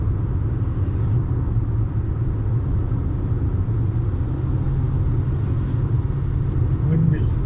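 A car drives along a mountain road in the Grampians on the way to Halls Gap, its steady low engine and tyre rumble filling the cabin with no pauses throughout.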